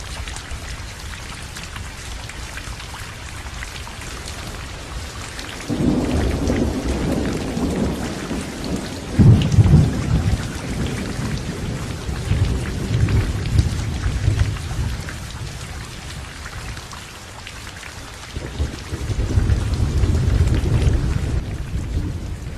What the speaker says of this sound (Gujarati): 23 જુલાઈની આખી રાત ડીસા સહિત ઉપરવાસમાં ભારે વરસાદ વરસતા